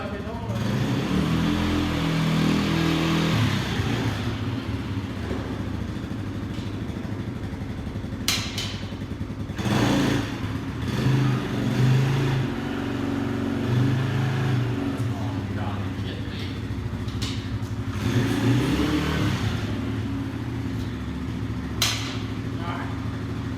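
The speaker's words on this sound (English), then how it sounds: "Choke is still on. That's why it sounds like that." Small Polaris 90 ATV engine running cold with the choke still on, a steady rough buzzing idle with occasional revs, close by, while people talk over it.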